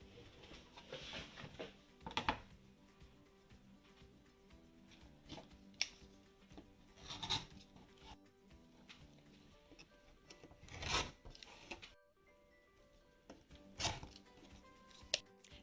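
Fabric strips for a log cabin flower quilt block are trimmed with a series of soft, close cutting strokes and scrapes, quiet and irregular, with no voices.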